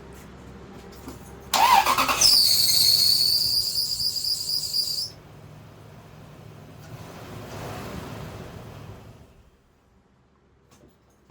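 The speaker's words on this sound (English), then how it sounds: "we're going to replace the serpentine belt because it's making quite a bit of noise" A Lexus GX470 engine cranks and starts, and a high-pitched squeal from a worn serpentine belt rises and holds for a few seconds before fading back to a low idle rumble.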